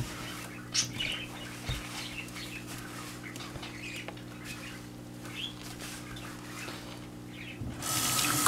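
Running water rinsing hair after conditioner, a steady close stream with a faint hum underneath and a louder gush at the end, birds chirping faintly in the background, no talking.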